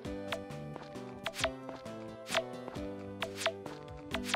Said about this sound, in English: Do a little bit of just chopping the grass back.